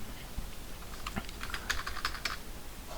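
Quick bursts of keystrokes on a computer keyboard while entering data into an Excel spreadsheet, clustered taps in the second half over a faint room hiss, with no talking.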